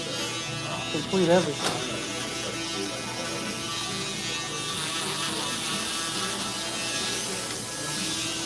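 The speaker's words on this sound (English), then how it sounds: "this is the fastest electric shaver. Like it really cuts fast and it cuts really close." An electric shaver buzzes steadily as it cuts hair during a barber's fade haircut, a continuous close motor drone running throughout, while a person talks briefly near the start.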